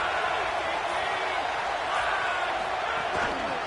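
A basketball arena crowd roars in a steady, dense wash of cheering and noise, broad and sustained throughout with no clear breaks.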